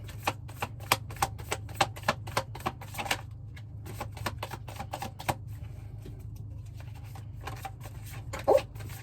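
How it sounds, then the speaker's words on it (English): Tarot cards being shuffled, a run of crisp rapid riffling clicks and snaps in irregular bursts with a steady low hum underneath and one louder knock near the end. "So let's give it a shuffle and see what comes out."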